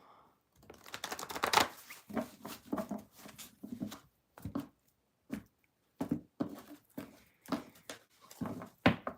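Tarot cards being shuffled in quick bursts of riffling and snapping, with short pauses between, close by and fairly quiet.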